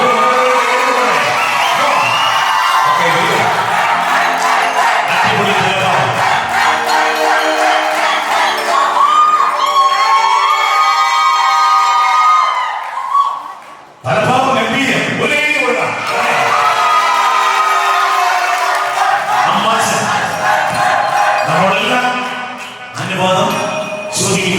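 Wedding guests clap and cheer in a loud, sustained crowd roar mixed with whoops, shouts and music, broken by a brief dip before the noise surges back, then tapers near the end.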